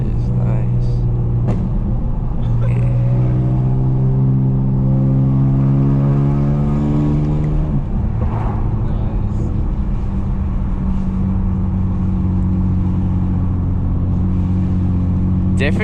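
A 2008 BMW E82 135i with a modified exhaust, tuned past 400 hp, revs and climbs through the gears with a deep rumbling exhaust, loud and close, while people talk over it.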